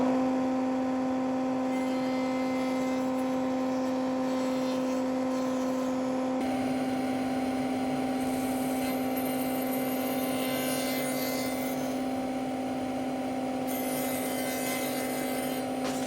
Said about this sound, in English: each one feeding through twice to round over both edges